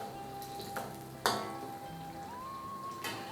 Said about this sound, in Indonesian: Kita goreng dengan api kecil seperti ini.